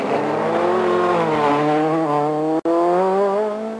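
A French Kit-Car rally car's engine howls steadily at high revs and slowly drops in pitch while slowing, loud and close, with a brief cut near the end before the note resumes.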